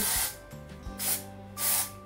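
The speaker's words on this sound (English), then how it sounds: "So what I like to do is just like spray a bit of that in." Dry texturizing hair spray hisses from a can into hair in three short, close bursts with quiet pauses between them.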